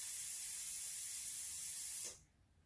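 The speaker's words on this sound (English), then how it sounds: "you gotta get the air out of this tire" Air hisses steadily out of a Scag mower tire's valve stem, a close, bright, continuous spray-like rush lasting about two seconds before cutting off abruptly into quiet.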